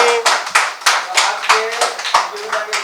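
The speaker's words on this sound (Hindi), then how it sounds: "एक बार जोरदार तालियां राजस्थान ब्रेकिंग न्यूज की टीम के लिए।" Audience applause at an inter-office quiz event for the winning team, a loud run of hand claps with sharp repeated peaks, fairly near and filling the whole moment, with no talk over it.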